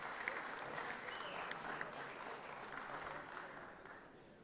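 Sustained applause fills the Georgia Senate chamber, a broad steady patter of many hands that fades slightly toward the end.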